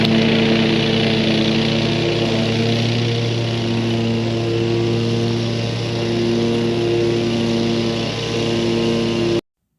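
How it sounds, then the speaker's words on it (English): Steady close-up drone of a running lawn mower cutting grass near a chain link fence, loud and continuous with a constant engine whine and no talk, cutting off abruptly at the end. "I noticed here as I was mowing"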